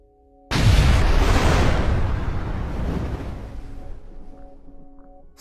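Spaceship self-destruct explosion in Star Citizen, a sudden loud boom bursting out of near silence, then a long rumbling roar that slowly fades as a faint tone lingers.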